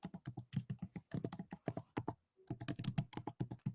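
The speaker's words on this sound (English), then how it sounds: "Oh, I can hear you typing." Rapid clatter of typing on a computer keyboard, close and crisp, in bursts of keystrokes with a brief pause midway, heard alone without talk.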